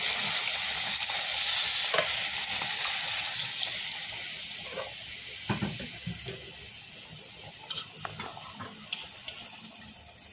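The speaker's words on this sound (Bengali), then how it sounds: "এবার একটু ঝোলের পানি দিয়ে দেবো।" Fish curry in a pan just after water is added for the gravy, a loud sizzle and bubbling that slowly settles, with scattered stirring clinks and knocks toward the end.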